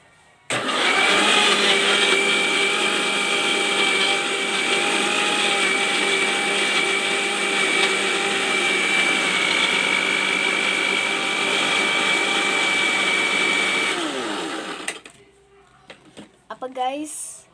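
An electric blender whirs steadily at close range, churning a banana shake meant for ice cream, with a sustained motor drone lasting about fourteen seconds before it cuts off; a brief scrape of the jar and faint handling follow.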